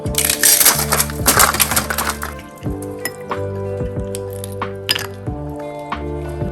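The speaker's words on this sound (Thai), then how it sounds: "เดี๋ยวใส่น้ำแข็ง" Ice cubes dropped into a glass of freshly squeezed lime juice, a burst of loud clinking and crunching, then a few scattered clinks and rattles as the cubes settle, with a steady tonal hum underneath.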